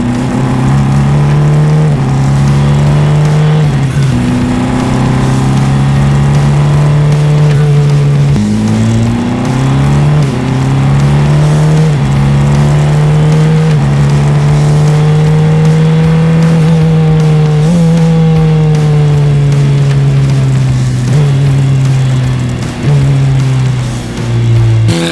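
Formula 4 race car on a track, engine droning loudly and continuously up close, pitch climbing and dipping through gear changes as it accelerates, with no talk over it.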